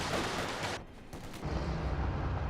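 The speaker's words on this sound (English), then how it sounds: "MG34 here to provide some fire support." MG34 machine gun firing in the World War II strategy game Company of Heroes 2, a dense rattle of automatic gunfire mixed with battlefield explosions and rumble, loud and continuous.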